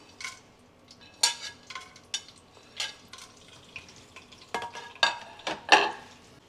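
Whole cardamom, pepper, cinnamon and cloves are heated in hot ghee with irregular scrapes and clinks of a spoon stirring the pan, about a dozen sharp strokes over a faint sizzle.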